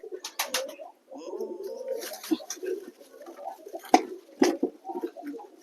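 Pigeons, including check satin pigeons, coo softly nearby in repeated throaty bursts, mixed with wing flutters and light scuffling as they are packed into a box.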